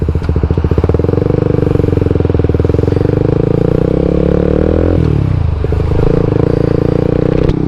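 A Suzuki GSX R150 motorcycle pulls away and rides on, its engine droning loudly and steadily with a rapid pulsing beat, then dropping in pitch briefly as it shifts before settling back into a continuous close hum.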